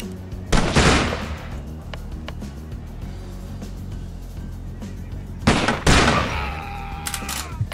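Gunfire in a shooter video game: two loud, sharp bursts of shots a few seconds apart, each ringing out briefly over a quiet in-game background.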